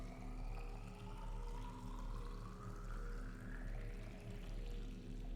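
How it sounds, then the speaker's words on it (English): Water pours and slowly fills a water filtration machine in the Subnautica video game, a steady rushing stream with a rising tone, alone and fairly quiet under a low hum. "I love that the water actually fills up as it goes"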